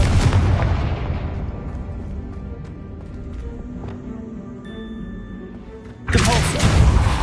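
A Confringo blasting spell in Hogwarts Legacy lands as a loud, booming explosion that rumbles and fades, followed by a second heavy blast near the end, with no talk.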